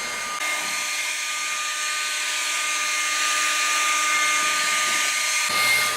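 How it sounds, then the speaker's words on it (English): A DeWalt battery leaf blower runs steadily, clearing light debris and leaves from a yard sidewalk with a loud, close, constant whirring hiss that shifts slightly near the end. "The blower does a great job of blowing off the light debris."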